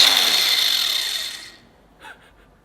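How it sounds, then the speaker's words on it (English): An angle grinder whines and grinds off metal rivets on a Ford Transit Connect van, then winds down and fades out, followed by a brief faint scrape. "I'll just get the grinder on those and grind those off"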